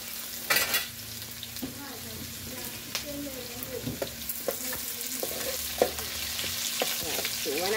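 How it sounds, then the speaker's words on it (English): Okra frying with cumin seeds in a pan for a home lunch, a close continuous sizzle broken by scraping stirs and small pops, with someone talking over it. "So the okra going in together with the jira, eh? Because you know okra will take a little while to fry."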